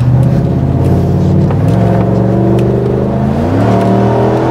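A Mitsubishi Pajero Sport fitted with a 3UZ V8 engine revs and pulls through the gears on a test ride, heard up close and loud from inside, with the engine note rising and stepping between shifts.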